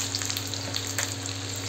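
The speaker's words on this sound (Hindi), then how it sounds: "यहाँ पे डाल दिया मैंने लहसुन एंड मिर्ची, अब लगाएंगे इसमें जीरे का तड़का" Garlic and chilies sizzle steadily in hot oil for a dal tempering, a close, continuous crackling fry with no one talking.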